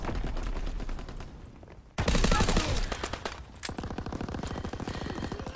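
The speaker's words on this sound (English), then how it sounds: "Dude, I can hip fire if I wanted to with this goddamn weapon." PPSh submachine gun fired from the hip in a video game: rapid, loud bursts of automatic fire, with a sharp jump in volume around the middle and then sustained rattling shots to the end.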